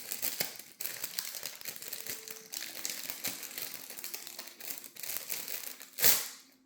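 Paper packaging from a Cloth and Paper intention box crinkles and tears close up in a series of irregular rustling bursts, ending with a sharp rip.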